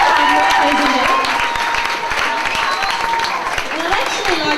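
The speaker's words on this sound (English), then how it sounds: "So come on, Dan, we can give round of applause." An audience at an evening hairdressing competition gives a loud, dense round of applause that lasts throughout, with steady clapping and a few cheers.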